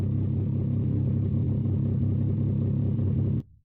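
Engine of the Prince car fitted with a muffler in the Mon Bazou driving game, a loud, steady low rumble idling or cruising nonstop for over three seconds before cutting off abruptly at the end.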